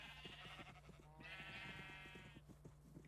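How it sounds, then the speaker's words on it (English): A sheep bleats in the game Minecraft, one drawn-out wavering bleat in the middle over a soft, regular ticking pulse and quiet game background. "Hello, sheep."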